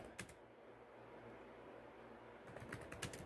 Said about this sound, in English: I'm just typing in the last one